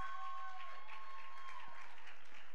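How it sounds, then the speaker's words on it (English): An audience at a send-off ceremony claps for a woman stepping forward to speak, a short burst of applause from a seated crowd, moderately loud, with a faint tone ringing underneath. "Give her a round of applause as she comes forward."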